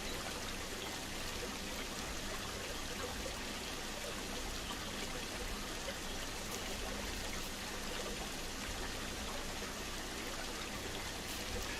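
A waterfall in a zoo-building video game pours with a continuous, even rush of water, steady and moderately quiet with no talking.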